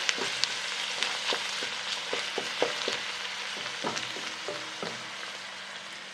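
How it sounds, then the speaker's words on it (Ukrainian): Chopped onion with carrot frying in a pan for a homemade seasoning, a steady close sizzle broken by repeated short clicks and scrapes of stirring, with no talk. "Також трішки підсмажимо разом з цибулею."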